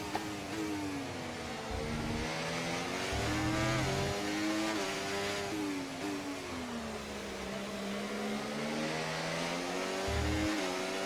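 An F1 race car in the F1 24 racing game drives hard through a lap. The engine whines loudly and continuously, rising and falling as it accelerates and shifts gears, alone without speech.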